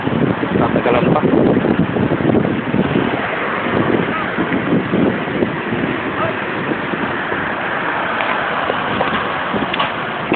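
Wind blowing steadily at the seaside in Al Ruwais, UAE, buffeting the microphone in a continuous loud rush with faint voices beneath it.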